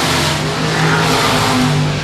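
Limited late model race cars roaring around Shady Oaks Speedway, a loud continuous blend of engines at full throttle passing close by.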